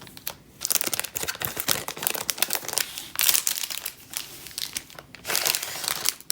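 Plastic shrink-wrap crinkles and tears as it is pulled off a Marvel omnibus hardcover of Secret Wars. The close, continuous crackling comes in several loud bursts, with no talking.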